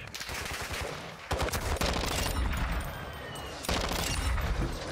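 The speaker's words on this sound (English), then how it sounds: "we hear gunshots over there. Sounds like an LTV firing." Sustained automatic gunfire from an LTV vehicle-mounted gun in Call of Duty DMZ, dense loud bursts that pause briefly and resume, rattling continuously across the whole stretch.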